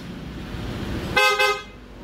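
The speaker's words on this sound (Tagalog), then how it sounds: "Tapos stock horn." A motorcycle's stock horn honks twice in quick succession, a short bright nasal toot close by over a steady low engine idle.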